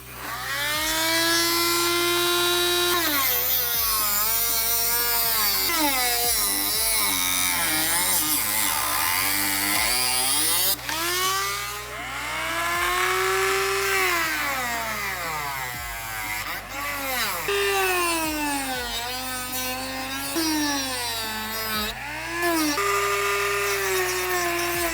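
A power tool cuts off a mount inside the engine bay of a 2018-2023 Mustang GT during a Vortech supercharger install, a loud, continuous whining run whose pitch rises and falls repeatedly as the cut proceeds.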